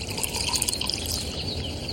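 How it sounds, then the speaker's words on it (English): Water pours steadily into a bowl full of cotton balls, a continuous close splashing and trickling that runs for the whole two seconds. "Pour some water into a bowl full of cotton balls."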